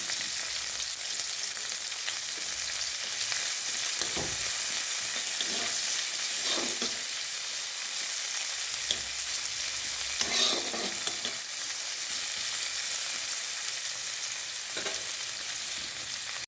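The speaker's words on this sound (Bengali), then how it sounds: "এখন তেল গরম হয়ে গেছে দিয়ে দেবো একটা পেঁয়াজ" Onion, carrot and diced potato fry in hot oil with a continuous close crackle and sizzle, punctuated by occasional spatula stirs and scrapes over about sixteen seconds, with no voices.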